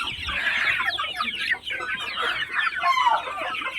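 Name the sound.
chickens clucking on a poultry farm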